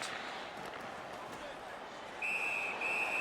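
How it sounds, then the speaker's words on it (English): A referee's whistle sounds late in an ice hockey video game, Seattle Whales versus Philadelphia Flyers, a clear sustained shrill tone in two short blasts over faint crowd ambience. "And the referee's whistle has stopped play."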